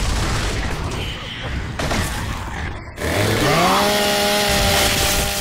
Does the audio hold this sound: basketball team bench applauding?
no